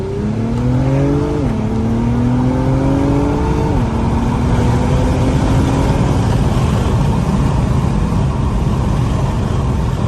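Acura TLX Type S accelerating hard in traffic, engine note climbing through the gears with clear shift drops, loud and continuous from inside the cabin for about ten seconds.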